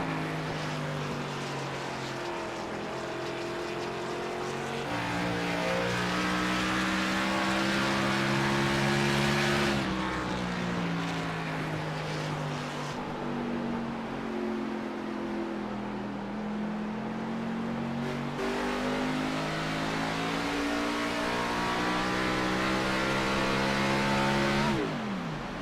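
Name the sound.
race car engine shut off into corners, racing video game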